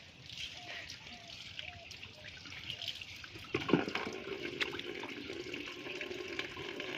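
Water runs from a tap into a bucket, a steady faint trickle and splash that grows slightly fuller partway through, with a voice speaking softly over it.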